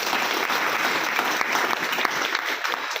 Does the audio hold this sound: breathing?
no